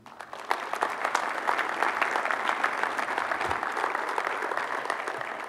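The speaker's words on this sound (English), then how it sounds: "One more big round of applause for the girls basketball Dream Team 2014." Sustained applause from an audience at a winter sports awards ceremony honoring a girls basketball team, steady, dense clapping that starts abruptly and holds throughout.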